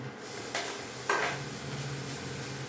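Ginger garlic paste sizzles steadily in hot oil with onion in a pan while oats upma is being made, with a couple of soft clinks or stirring knocks partway through.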